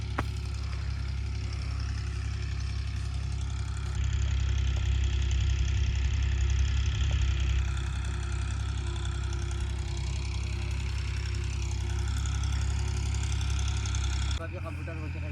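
Tractor engine running steadily while a field is ploughed for sowing maize, a continuous low, heavy rumble that swells slightly in the middle and drops near the end.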